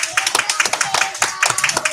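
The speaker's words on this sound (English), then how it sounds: "Can we have a big round of applause for all of Peacock?" A school class receives a burst of hand clapping from a group, with quick uneven claps throughout.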